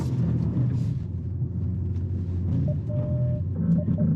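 A 2022 Nissan Pathfinder engine runs at full throttle off-road with traction control off, giving a steady, loud low rumble and drone throughout, with a thin whine appearing near the end.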